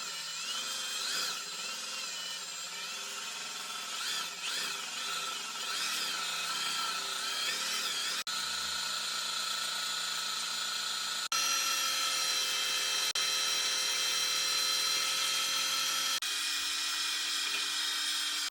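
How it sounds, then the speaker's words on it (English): A buzz gun fitted with Scotch-Brite whines at a high pitch while polishing the end of a motorcycle shaft on a 40-year-old bike build, running continuously in sustained bursts with shifting tone and no talk. "get my buzz gun, yeah, hold it on the end with some Scotch-Brite"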